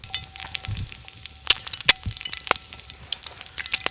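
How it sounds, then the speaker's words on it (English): Eggs frying in a pan over a campfire outdoors, a quiet crackling sizzle broken by several sharp pops and spits, close by with no talking. "Oh, I love cooking eggs"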